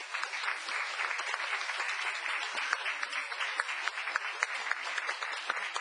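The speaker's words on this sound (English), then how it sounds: "Applause for DAR," A town council meeting audience gives sustained applause for the DAR chapter, a continuous, moderately loud patter of many hands with a few sharper individual claps.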